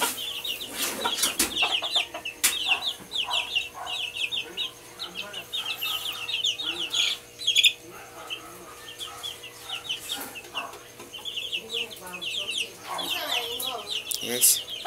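Chickens cluck and chirp continuously near a backyard coop at feeding time, in busy, overlapping calls close by, with a few sharp knocks and bumps mixed in.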